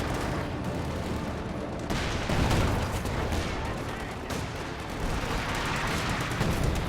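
Artillery fire in Company of Heroes 2, a dense continuous rumble of distant blasts and battle noise with repeated booms layered throughout, loud and unbroken.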